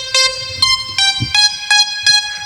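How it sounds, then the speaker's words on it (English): Bright synth bell tones ring out in a steady pattern of about seven evenly spaced chimes, clear and close with short decays. "I had my bells up here, and they sound like this."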